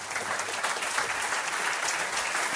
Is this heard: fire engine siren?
no